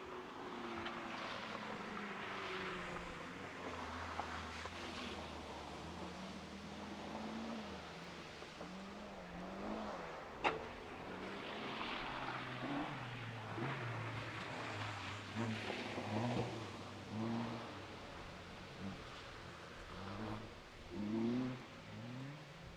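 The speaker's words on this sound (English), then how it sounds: "Car 41, Kevin Johnson from Loughborough Car Club, driving around" A time trial car at the Melbourne event drives around the course with its window open, engine note rising and falling through gear changes and revs, moderately distant, with a sharp click midway.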